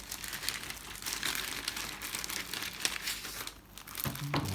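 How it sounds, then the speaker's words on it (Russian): Brochure in a cellophane bag handled close up, packed with a Cooler Master Cosmos C700M computer case, giving continuous loud crinkling and rustling of the plastic, with a brief lull and a thump near the end. "брошюрка тоже в целлофановом пакетике, такая вот"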